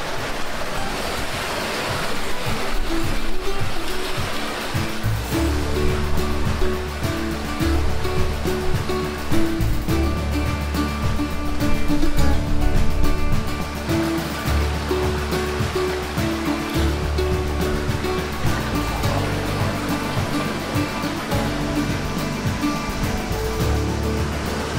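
A 90-meter waterfall in Logar Valley, Slovenia, heard from near its top, roars as a steady, loud rush of falling water with a deep rumbling undertone, without pause and with no voices.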